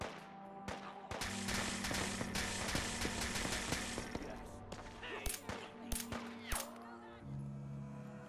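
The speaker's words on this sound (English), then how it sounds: "I'm just gonna let these idiots shoot and kill each other for a minute." A gunfight between Children of Adam and gunners in Fallout 4: rapid overlapping shots and cracks at moderate distance, continuing steadily with sharper bursts near the end, over a background game hum.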